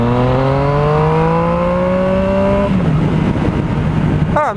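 A motorcycle engine under way with a rider aboard, a loud close drone that climbs smoothly in pitch through the gears, eases to a lower steady note, then revs briefly again near the end, with no talking.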